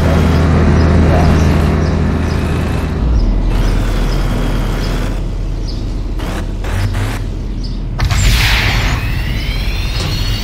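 Video game car in Roblox Ultimate Driving rumbling along a road, a steady low engine drone with whooshing passes and a louder surge near the end, continuous throughout.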